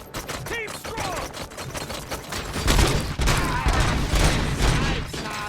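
Covering gunfire in Robocop Rogue City: a dense, continuous fusillade of rapid shots, loud and close, building in the middle amid battle clatter and debris.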